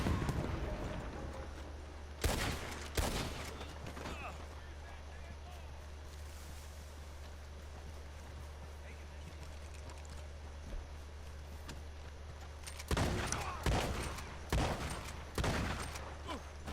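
Gunshots and dynamite blasts in a Western video game ring out as sharp, loud cracks, clustered in a few bursts near the start and again near the end, over a constant low engine-like rumble with quieter stretches between.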